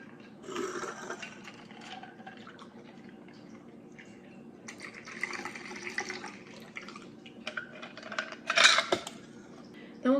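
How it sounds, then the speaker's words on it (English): A cocktail is strained and poured from a shaker, with ice and metal clinking, liquid splashing and the knocks of handled barware, moderately close. A few sharp clinks come near the end. "grab your strainer to pour it out"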